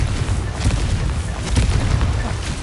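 A Confringo blasting spell from a video game goes off as a loud, sustained explosive roar with rumbling low end and crackling bursts that hold steady throughout.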